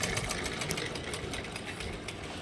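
A sewing machine that bunches and puckers fine fabric runs continuously, giving a close, steady, fast mechanical whir and rhythmic needle clatter with no speech.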